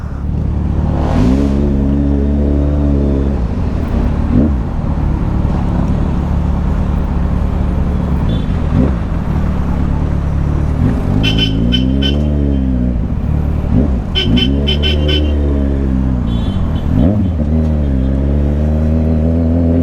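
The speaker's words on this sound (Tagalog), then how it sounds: "Dito rin, matraffic din. Traffic everywhere." Heavy road traffic surrounds a scooter rider, with engines droning and revving up and down in repeated swells, loud and close throughout.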